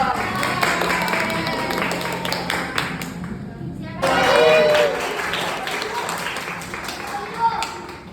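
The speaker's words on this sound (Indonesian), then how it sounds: "tepuk tangannya dulu" Students in a group session clap briefly, a light scattered patter mixed with talk and room noise, with a short louder burst partway through.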